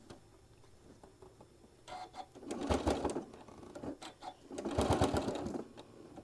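A sewing machine stitches fabric in two short bursts of rapid mechanical chatter, separated by a pause and a few quiet clicks, fairly close and with no talking.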